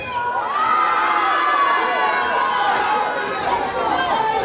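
A crowd of fans cheers and shouts loudly in an indoor hall, a sustained roar of voices with whistles and high yells that stays dense and steady throughout.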